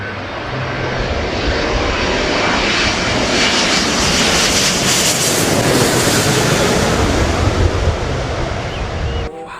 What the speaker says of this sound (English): A big aeroplane.